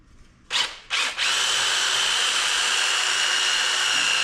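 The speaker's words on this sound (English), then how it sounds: "Are you not gonna finish drilling it out?" A power drill drills out holes in a part during a race boat rebuild, with two short bursts followed by a loud, steady, close whine that runs without talk.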